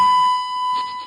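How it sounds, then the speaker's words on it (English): A phone app emits a stuck, continuous electronic beep, a thin steady tone that holds unbroken for about a second, fairly loud with faint background murmur. "It's in a perpetual beep, and it won't stop."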